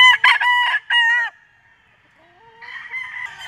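A bull stag gamefowl rooster, a banderado White Kelso at a gamefarm, crows loudly and close for about a second and a half, followed by quieter, fainter bird calls rising toward the end.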